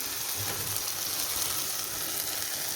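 Tempering and chili powder frying in a pan for bitter gourd palya, a steady close sizzle with faint stirring scrapes, no voices.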